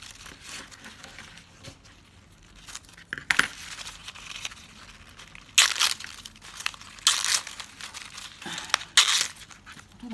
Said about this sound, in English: You rip the each of the bows.